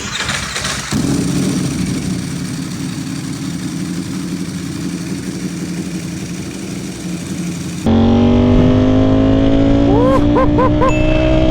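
A Ducati Panigale V4 SP2 running a new stage 2 ECU flash fires up after a starting burst, then settles into a loud, steady idle; it later climbs into higher, rising revs with clear pitch sweeps, close by and with no talk.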